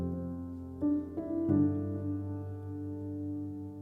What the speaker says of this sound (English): the other piano that I use is from an external plugin